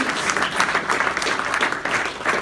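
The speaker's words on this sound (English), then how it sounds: "Everybody, give a nice round of applause for Jerry Bowers." Steady audience applause fills an accordion showcase, a dense continuous patter of many hands clapping at moderate loudness with no break, heard alone without talk.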